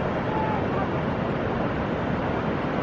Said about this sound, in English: I was recording the waves.